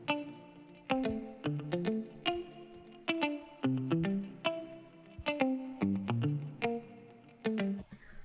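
Electric guitar part run through effects such as distortion and chorus. It plays a rhythmic pattern of struck chords and notes with a processed, slightly echoing tone at moderate volume, and nobody speaks.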